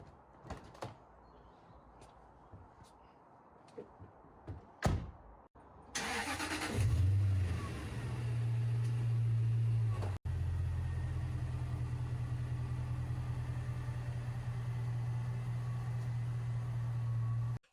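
Jaguar XJR car: a few door and body clunks, then the engine cranks and fires, settles into a steady loud idle, and holds its close, continuous running note for the rest of the clip with no talk.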